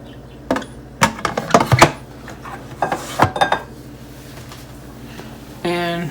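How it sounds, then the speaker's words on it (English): Metal lid being set onto a Presto electric canner loaded with seven jars of raw-pack chicken: a cluster of sharp clanks and scrapes, then a few lighter knocks and a brief rattling buzz at the end. "and we'll put the lid on it"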